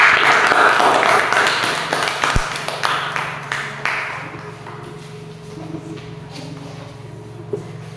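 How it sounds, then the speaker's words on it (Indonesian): A classroom of students claps for a group, brief uneven clapping at the start that fades out, followed by quieter room sounds and a hum. "tepuk tangan kelompok 1"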